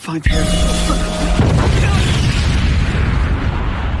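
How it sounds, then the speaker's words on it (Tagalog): A loud explosion hits abruptly with a heavy boom, then a dense roar of crackling debris that rumbles on steadily. "Ngunit biglang naganap ang pagsabog."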